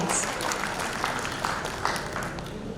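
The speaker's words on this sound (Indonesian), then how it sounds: "Sorak-sorai lagi buat Allah kita yang dahsyat." Onsite church congregation of seniors clapping and cheering in worship, a steady wash of applause with a few scattered louder claps, moderately distant and slightly hollow-sounding.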